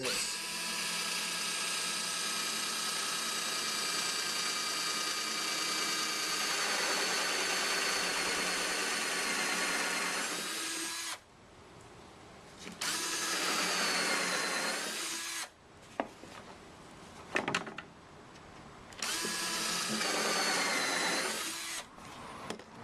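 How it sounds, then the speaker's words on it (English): A cheap Harbor Freight hole saw on a drill bores a hole, with a long, loud, continuous whine that stops and then restarts in several shorter bursts, close up with no talking. "Get a little hole saw."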